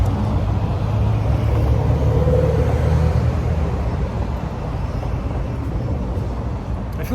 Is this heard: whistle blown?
no